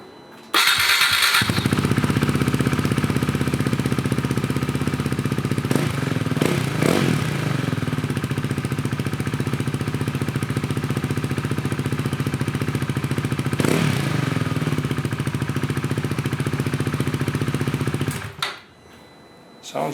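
A loud de-baffled KTM 390 Duke motorcycle engine cranks, catches and settles into a deep, steady idle with a few revs, then cuts off near the end.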